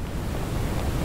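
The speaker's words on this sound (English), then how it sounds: "Why is it filling up with water?" Water rushes in to flood a chamber in the video game The Forgotten City, a dense, continuous surging roar that stays loud and steady throughout, with no voices.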